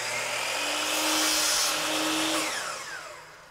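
A miter saw cuts a 45-degree miter in wood molding, a loud, close, high whine that builds, holds for a couple of seconds and then winds down, with no talk.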